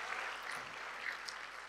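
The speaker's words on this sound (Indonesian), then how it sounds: "Boleh berikan tepuk tangan sekali bagi Tuhan." A church congregation applauds during a Good Friday service, giving a short, steady wash of clapping heard from within the room.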